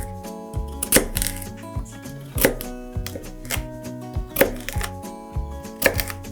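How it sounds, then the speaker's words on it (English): A knife cutting a carrot into large pieces on a board, sharp close chops landing at a steady, unhurried pace, roughly one every second or so, with quiet pauses between strokes and no talking. "Cut the carrot in large pieces."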